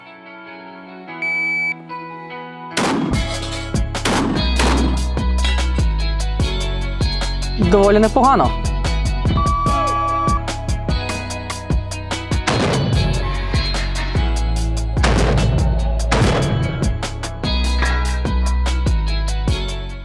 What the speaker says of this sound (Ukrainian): Сьогодні я вирішив дати змогу постріляти зі справжньою бінелем 4, але модифікованою.